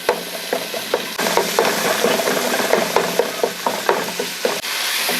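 Softened tomatoes stirred into yakhni in a pot for beef pulao, with repeated scraping strokes of a spoon against the pot over a continuous wet sizzle, close and fairly loud.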